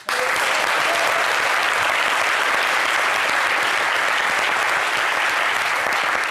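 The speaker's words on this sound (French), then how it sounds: "Applaudissez encore, c'est grave." A studio audience at a talk show claps loudly and continuously, a dense, even roar of applause that holds from start to finish with no talk on top.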